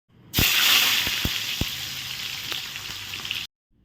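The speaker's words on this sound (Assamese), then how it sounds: "পিঁয়াজ, আদা, নহৰুখিনি মই আগতেই কাটি থৈছিলোঁ, ইয়াত তেলত দি দিলোঁ।" Loud, steady sizzle of onions, ginger and garlic frying in hot oil in a kadai, with a few sharp crackles and pops, close up and continuous.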